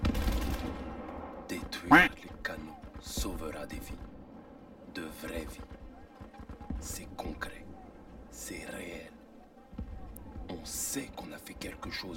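Gunfire in the video game Battlefield V comes in scattered bursts and single shots, some sharp and close, others duller, with quiet stretches between them and a player talking softly over the action.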